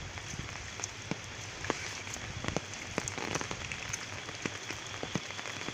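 Rain falls steadily on a rice paddy field in a village, an even hiss dotted with sharp nearby drips and patters, no voices.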